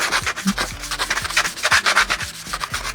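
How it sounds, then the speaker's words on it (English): Medium abrasive sponge scrubbing a classic VW taillight, rapid rhythmic back-and-forth rubbing strokes, close and fairly loud, with no voices. "I'm going to use the sponge, and which is a medium sponge"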